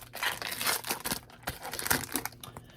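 A Pokémon trading card pack is cut open with scissors and its foil wrapper crinkled, giving several bursts of close crackling and rustling, loud and uneven, with no talk.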